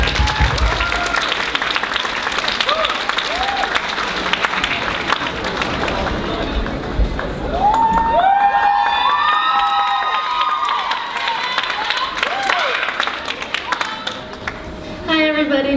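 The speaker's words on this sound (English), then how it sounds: "Now give the freshmen a round of applause." An event audience applauds and cheers for freshmen hosts, with loud, dense clapping and excited shouts and whoops that swell midway and keep going near the microphone.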